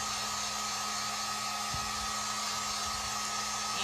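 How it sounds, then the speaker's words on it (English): Harbor Freight heat gun blowing hot air to dry stencil paint, a steady, loud, even whooshing hum that holds without change from start to finish. "So I just have my heat gun here that we got from Harbor Freight."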